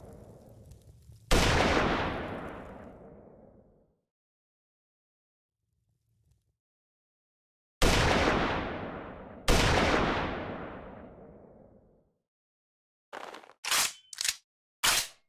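Sniper rifle shots in a video game: three loud, sharp blasts, each with a long reverberating tail, spaced several seconds apart with silence between, followed by a quick cluster of short, punchy sounds near the end.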